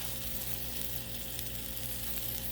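Bacon sizzling on a hot Blackstone flat-top griddle, a faint, even crackling hiss running steadily with no pauses and no voices.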